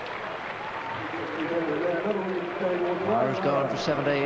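A cricket crowd applauds steadily in a standing ovation, a broad continuous wash of clapping heard under a commentator's voice throughout.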